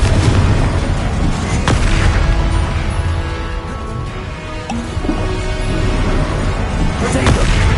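Loud booming blast of a Confringo fire spell in Hogwarts Legacy, a heavy explosive burst over dense game-combat noise that keeps rumbling for several seconds, with a few sharp cracks mixed in.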